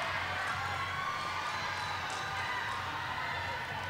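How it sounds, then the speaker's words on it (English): Crowd at a roller derby bout at the Great Southern Slam cheering and applauding in a steady, dense roar that holds evenly throughout, with no clear individual voices standing out. "And a big round of applause here on track one"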